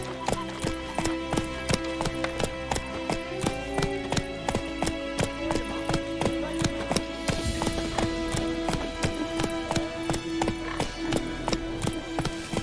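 Roach, a horse in The Witcher 3, gallops in a steady rapid clip-clop of hooves that runs the whole way, loud and close, with a whinny and a game music bed underneath.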